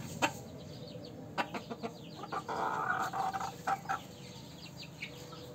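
A laying pair of Golden Sebright chickens in a chicken house clucks close by in short, repeated bursts, with one longer run of calls in the middle.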